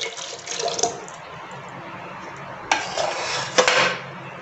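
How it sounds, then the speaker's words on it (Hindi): Water poured into chocolate pastry batter in a bowl, with clinks of a utensil against the bowl; soft, close kitchen sounds with a couple of sharper knocks. "फिर ऐड करूँगी पानी"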